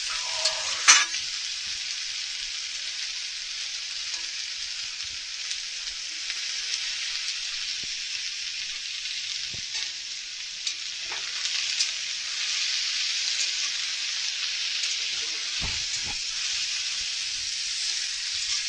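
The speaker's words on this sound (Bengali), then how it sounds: "হালকা করে একটু সবজিগুলো সাঁতলে নিলাম।" Vegetables sautéed lightly in a pan hiss in a steady, even sizzle, with a few soft clinks of stirring scattered through it and a brief clatter near the start.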